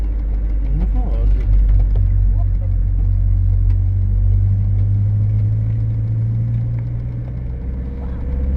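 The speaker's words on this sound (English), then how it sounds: "I'm driving into the fog" A car engine rumbles steadily from inside the cabin while driving into November fog near a roundabout, a loud low drone that eases slightly toward the end as someone talks over it.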